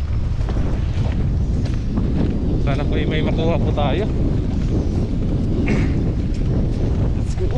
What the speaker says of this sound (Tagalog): hindi po tayo makapaghagis dito bandong kasi malakas po yung hangin